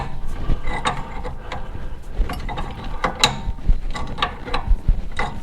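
A pipe wrench turns a control arm bolt on a GMC Yukon or Chevy Tahoe truck, giving repeated close, gritty metallic creaks and clicks at an uneven rhythm over a faint background of garage noise.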